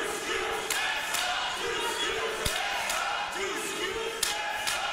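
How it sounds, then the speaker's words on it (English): Crowd noise from a wrestling audience at London Comic Con during a 2018 Canusa Classic women's match, a steady roar with scattered shouts and a few sharp thuds, loud and continuous throughout. "Listen to this crowd."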